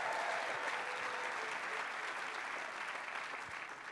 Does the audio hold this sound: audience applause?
yes